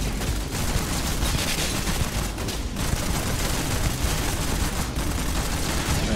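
Sustained, dense gunfire from the space shooter game Starfield, loud and continuous bursts with no gaps throughout.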